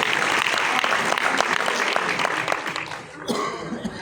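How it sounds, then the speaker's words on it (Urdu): Sustained audience applause at an awards ceremony held in memory of Waheed Murad, honouring actor Mustafa Qureshi; dense, steady clapping fills the hall, with a brief dip near the end before it swells again. "ان کے لیے ایک بھرپور تالیاں ہونی چاہیے مصطفیٰ قریشی صاحب کے لیے"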